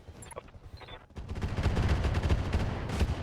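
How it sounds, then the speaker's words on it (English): Weapons fire in the RogueTech mech video game hits the Chameleon mech as a dense, loud burst of rapid gunfire and explosive impacts that keeps going after a brief lead-in of quieter game sounds. "So we're going to fire on the Chameleon."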